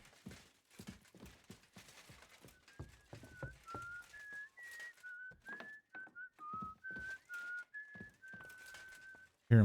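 Character whistling a meandering tune in the video game Kingdom Come: Deliverance II, clear repeated notes over footsteps and light ambient sounds.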